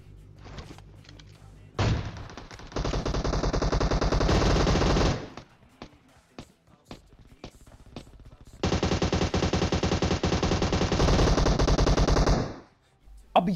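Automatic gunfire in the mobile battle game PUBG Mobile comes in two long, loud, sustained bursts of rapid shots, separated and preceded by scattered single shots and quieter gaps.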